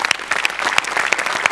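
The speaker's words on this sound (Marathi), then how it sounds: "आज सेटसाठी एकदा जोरात टाळ्या झाल्या पाहिजेत" Loud, dense applause for a stage set fills the whole moment, many hands clapping at once in a steady, close, crackling wash with no break.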